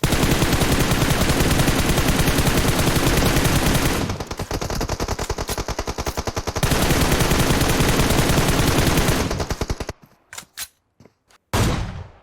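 Sustained rapid machine-gun fire from a tunnel-fighting shooter video game, loud and continuous with a brief dip, then breaking into a few separate bursts and single shots near the end.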